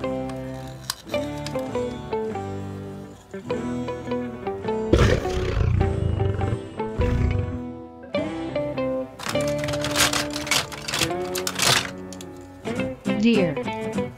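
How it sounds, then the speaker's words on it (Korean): A lion's roar heard among music from a wind-up toy animal segment, with a burst of roaring growls in the middle amid melodic tones and a voice speaking. "Lion"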